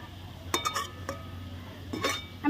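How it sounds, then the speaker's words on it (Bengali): A lid set over a pan of tomatoes cooking for chutney, giving a few close metallic clinks and clatters in two short bursts over a low hum. "আমি চাপা দিয়ে দিব।"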